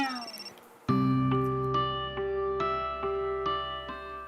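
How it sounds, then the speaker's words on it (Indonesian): A phone ringtone sounds from about one second in, a steady repeating electronic melody with regular pulses that goes unanswered, after a brief muffled stretch at the start. "Gue nggak mungkin angkat telepon Vino di depan lo, Dirli."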